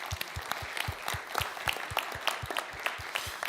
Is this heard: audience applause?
yes